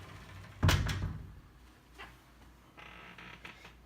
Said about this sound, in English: So finally, we will now shut the back door.